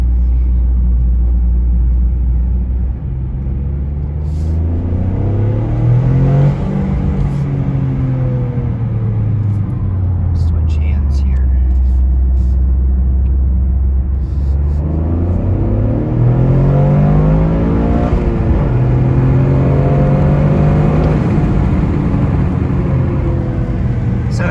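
A Toyota GR Corolla three-cylinder exhaust rumbles loudly as the engine revs up and settles back down in two long sweeps, with a deep, throbbing note that rises and falls.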